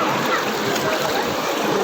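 Waves surging and splashing in a resort wave pool, a loud continuous rushing wash of water with no clear breaks.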